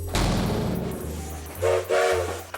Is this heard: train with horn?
yes